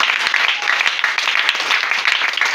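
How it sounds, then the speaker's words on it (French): A church congregation applauds and cheers for the Lord, with dense, steady clapping at full volume from start to finish. "Est-ce que tu peux acclamer le Seigneur?"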